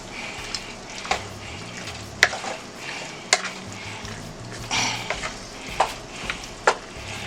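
Oxtail pasta sizzling in a pan while being stirred, with a steady fry hiss broken by scattered scrapes and sharp clinks of the utensil against the pan.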